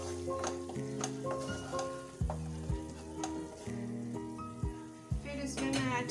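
Caraway seeds being stirred into onion paste frying in a pan, a continuous sizzle with repeated spoon scrapes and metallic clinks against the pan, close and moderately loud, with no voices.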